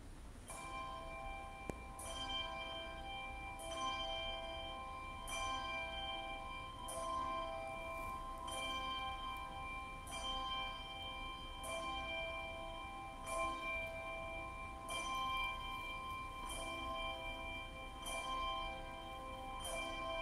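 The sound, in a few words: church bells pealing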